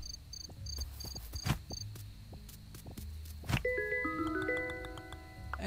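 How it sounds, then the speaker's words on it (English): Cricket in the life-sim game Dinkum chirps in quick repeated pulses, close and clear, followed by a bright chiming game jingle of rising tones, with soft footstep-like taps underneath. "And I got a cricket."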